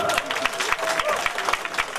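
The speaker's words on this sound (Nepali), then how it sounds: "ताली बजाइदिनुहोस् त एकपल्ट।" Audience applause at a Sikkim Police raffle draw event, rhythmic clapping from a crowd with crisp individual claps mixed with a background hubbub of voices.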